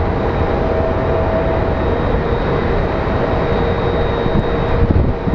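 A loud, steady jet roar fills the air at Phoenix Sky Harbor Airport as an overpowered airliner such as a Boeing 757 passes, a continuous broadband rumble with a faint high whine, no voices.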